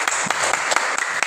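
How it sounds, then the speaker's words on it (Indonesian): Brief applause from a fifth-grade class after a recitation of Quranic verses, a short burst of quick, close hand claps. "tepuk tangan."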